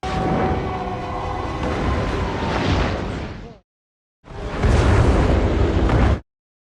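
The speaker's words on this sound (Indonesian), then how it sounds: "seketika bom yang digenggamnya meledak" A loud, sustained roaring bomb blast in a film rumbles for several seconds, cuts to silence, then a second heavy explosion booms with deep low rumble.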